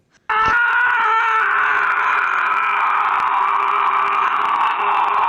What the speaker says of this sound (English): he was going for the longest scream